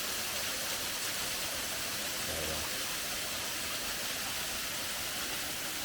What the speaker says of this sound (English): another one of those free-falling waterfalls that you don't see many of in Georgia